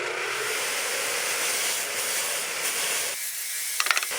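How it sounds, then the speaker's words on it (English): A sanded RZ350 motorcycle wheel is held against a running buffer, giving a steady, close, rushing whir and hiss that cuts off near the end, followed by a few light clicks. "I'm going to take it to the buffer now"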